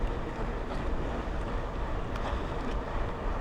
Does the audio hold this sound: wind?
yes